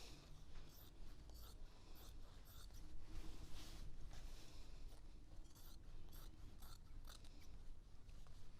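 Scissors snip a section out of a quilting fabric piece, close up, a long run of quick, crisp clicks and cuts with faint handling rustle.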